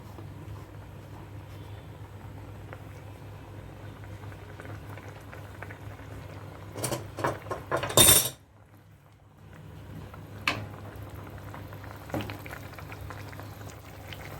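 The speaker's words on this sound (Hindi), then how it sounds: "देखिए, बॉईल आ गया" A pot of ivy gourd curry bubbles at a low steady boil, with a short burst of clattering and a loud knock partway through, then soft bubbling resumes without voices.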